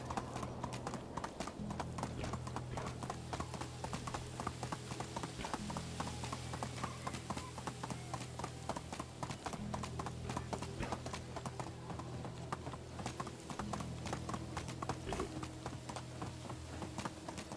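Horse hooves clip-clopping in the medieval village game Medieval Dynasty, a fast steady gallop rhythm running throughout at moderate level beneath faint game ambience.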